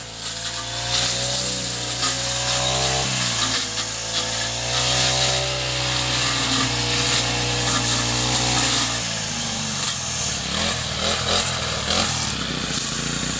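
A grass cutter runs steadily on a farm lot in Rosales, Pangasinan, a continuous loud motor drone with a wavering pitch that shifts and drops toward the end, heard close throughout.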